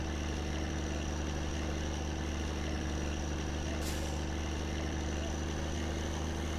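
A tractor engine from the video game My Summer Car idles in a steady, low, continuous drone at moderate volume, with no pauses or other sounds.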